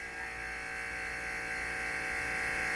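A vacuum pump runs steadily on a chamber holding Neapolitan ice cream, a constant close, loud electric buzzing hum with no breaks, no voices.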